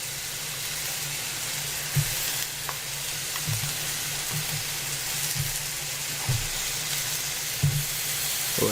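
Kimchi going into a pan of sizzling spicy Korean ramen with zucchini and chicken, a steady close frying hiss broken by a few soft stirring knocks.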